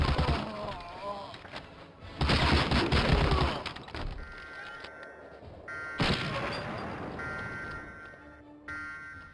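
Gunfire and explosions from the World War II first-person shooter Medal of Honor: Allied Assault on PC, with dense loud bursts of shooting in several waves, heavy booms and crashes, separated by quieter stretches with musical tones.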